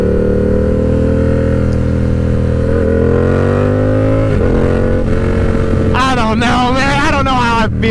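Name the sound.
Yamaha R7 motorcycle CP2 engine riding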